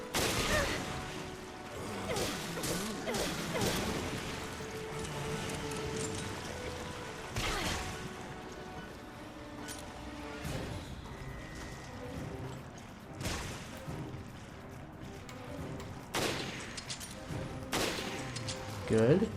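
Repeated bursts of gunfire ring out in Raid Mode of the video game Resident Evil Revelations aboard a ghost ship, sharp shots scattered irregularly over a dense bed of game effects and music at moderate level.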